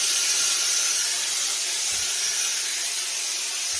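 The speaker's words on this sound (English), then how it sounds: "let's introduce a bit of steam now" Steady, loud hiss of steam from a steamer played onto an Akubra Adventurer fedora during restoration, a continuous broadband spray sound with no talk.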